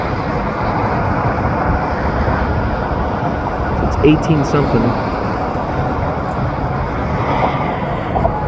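A Norfolk Southern freight train hauled by EMD locomotives rumbles steadily and loudly nearby along a river, a dense continuous low roar with brief clanks, and a person speaks briefly over it.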